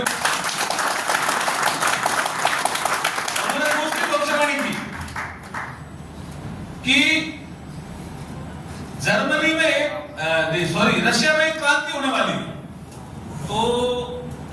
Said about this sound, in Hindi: स्वामी विवेकानंद जी के लिए जोरदार ताली बजा दो